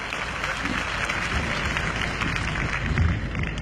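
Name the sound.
audience applause for student president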